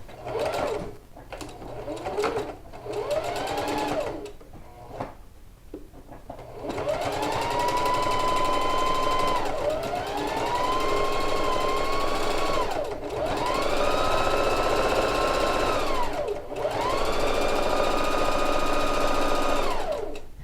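A sewing machine stitches a seam along the edge of a quilted coat: a few short stop-start bursts, then long steady runs of close, loud motor whir with brief pauses between them.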